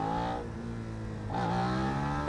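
A 2019 Suzuki SV650X motorcycle engine revs up twice with sharp throttle blips over a steady idle, the pitch rising and falling close by.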